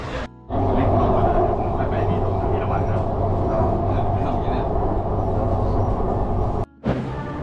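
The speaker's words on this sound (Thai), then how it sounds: "เดี๋ยวรอลองใช้รถไฟฟ้าดูว่าแบบการเดินทางไปจะเป็นยังไงบ้างนะครับ" Riding the Bangkok BTS Green Line skytrain toward Samrong station, a steady loud rolling hum and rumble fills the car, briefly dropping out near the start and again near the end.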